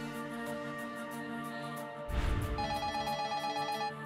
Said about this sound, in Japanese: 電話の着信